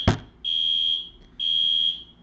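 A fire alarm test sounds loud and piercing in two long, steady electronic tones separated by a short gap, following a sharp knock at the start.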